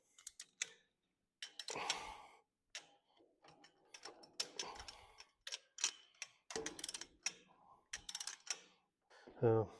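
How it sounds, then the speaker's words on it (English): A torque wrench ratchets and clicks while tightening the cylinder head bolts on a 1926 John Deere Model D tractor, giving close, intermittent mechanical ticks with pauses between bursts. "So on my torque wrench, I've got it set to 150 pounds."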